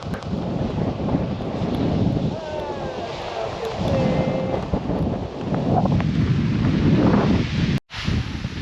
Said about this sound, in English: it's windy and it's rainy again